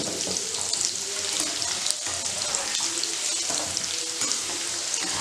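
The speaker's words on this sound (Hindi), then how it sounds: "आप इस तरह से इसको लगातार हिलाइए तभी जो है हमारा अचार अच्छा बनेगा।" Amla frying with salt in hot oil for pickle, stirred continuously, giving a steady close sizzle with scraping stir sounds throughout and no talk.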